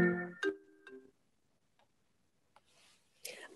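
A mobile phone ringtone goes off during a podcast conversation: a few short, bright melodic tones in the first second, followed by scattered soft clicks and a burst of rustling handling noise at the end.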